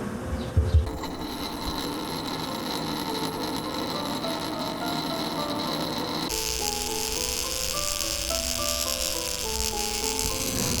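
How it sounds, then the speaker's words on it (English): Dry ice pressed against a metal spoon gives a steady, shrill squealing and buzzing with shifting tones, continuous and close for about ten seconds. "When I place it on this metal spoon, listen to the interesting sound that it makes."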